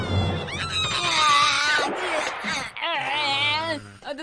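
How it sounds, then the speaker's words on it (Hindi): An angry Iriomote wild cat yowling in a Doraemon cartoon, a loud, drawn-out wavering caterwaul that rises and falls, continuous and close with cartoon soundtrack beneath. "ये तो इरियोमोट वाइल्ड कैट है"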